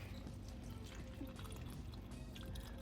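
Liquid fertilizer poured into a house plant pot, a faint continuous trickle and pour of liquid lasting a few seconds, quiet and close, with no talk over it.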